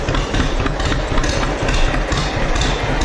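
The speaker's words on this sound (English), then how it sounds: "It's a John Deere 50 with optional power steering, folks." Engine of a John Deere 50 tractor with optional power steering running steadily at a ranch, a loud, continuous low rumble with a dense chugging texture throughout, no talk.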